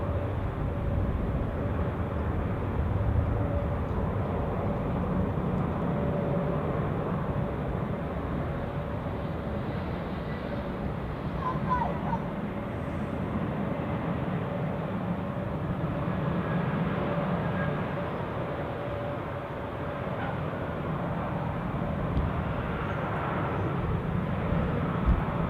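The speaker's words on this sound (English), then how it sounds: "Condor 9X for Tango. Yeah, that's an immediate departure here, no stop whatsoever." A Condor airliner rolls out for departure at Zurich Airport, its engines a steady, broad roar that holds at a distance and swells slightly over about twenty-five seconds.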